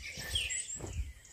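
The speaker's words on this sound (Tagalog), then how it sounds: "Marami ng ibon guys na dumating." Birds calling near a balete tree beside a vegetable plot in the Philippine countryside, a few thin high chirps and a short whistled call over low rustling background, fairly faint and brief.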